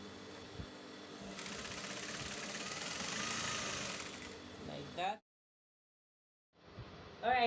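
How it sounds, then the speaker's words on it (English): A sewing machine stitches the ends of a ruched drawstring skirt together, running in a steady close whir for about five seconds before stopping, then a short burst of mechanical rattling after a pause. "I'm just going to be sewing the one end to another end."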